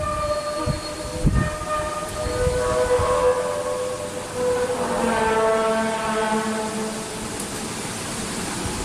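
Mysterious sky trumpet sound: drawn-out metallic, horn-like tones that slide and overlap like heavy machinery groaning, moderately loud and sustained over a low rumble, with a few sharp knocks early on.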